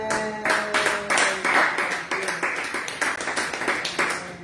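A church congregation claps steadily in an enthusiastic round of applause to the Lord, with rapid overlapping hand claps filling the room and a faint sustained tone and voices underneath.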